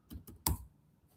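Computer keyboard typing while a git clone command is entered during an edge AI workshop: a few quick, faint key clicks, then one sharper keystroke, heard close with no talking.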